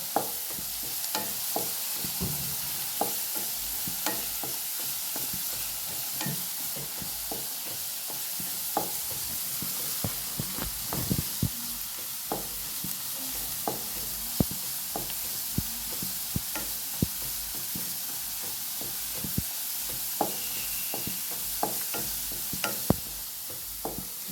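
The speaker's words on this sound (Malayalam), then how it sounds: "നന്നായിട്ട് വഴറ്റി കൊടുക്കുക" Prawn curry masala with green chillies stirred and sautéed in a pan, steady soft sizzling under repeated scraping and clinking stirs, close and continuous with no talking.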